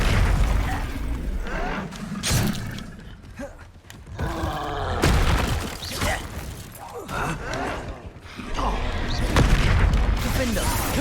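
Bombarda and Confringo spells explode during a Hogwarts Legacy video game fight, with repeated heavy booms and blasts amid clattering combat effects. A voice is heard among the explosions.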